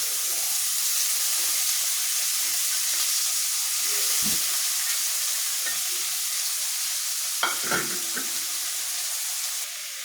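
Puti fish frying in hot oil with onion and green chilli, giving a loud, steady sizzle and crackle that keeps going, with a few soft knocks from the utensils over it.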